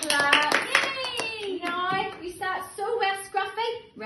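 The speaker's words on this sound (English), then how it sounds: "Oh, big clap." Children clap together during a nursery storytime song, a burst of sharp claps with a singing voice carrying over them, the clapping fading and turning sparser toward the end.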